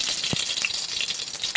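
Onion-frying oil and ghee sizzling in a pot as whole cumin, bay leaf and whole spices go in for chicken biryani, a steady close crackle with small pops, no talking.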